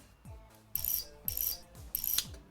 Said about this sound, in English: now to unscrew some bolts